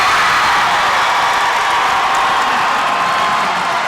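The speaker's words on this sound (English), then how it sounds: "Uh-oh, this is going to be a dunk, and it's going to get the crowd excited." Crowd noise in a high school gym during a boys basketball game, a steady, dense roar of cheering and shouting that stays loud throughout without easing.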